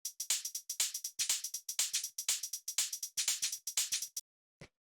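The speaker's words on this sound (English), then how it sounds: "So the next thing I have here are some hi-hats," Crisp hi-hat samples in a drum pattern, closed and open hats mixed with a shaker, ticking in a fast, steady rhythm for about four seconds before stopping, followed by one last isolated hit.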